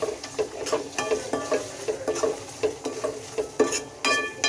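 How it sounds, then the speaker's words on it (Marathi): Potatoes are lightly fried in a pan, a soft sizzle under repeated stirring scrapes and spoon clinks against the pan, close by and moderately loud, with no talk during it. "थोडं हलका फ्राय करूया आता"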